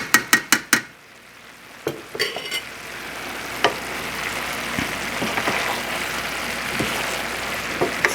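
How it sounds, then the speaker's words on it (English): Curry cabbage with yams and carrots fries in a pan. A few sharp metallic clanks of a utensil against the pan open it, then a steady sizzle continues under occasional scraping stirs. "So then we just cook it, mix it up really well."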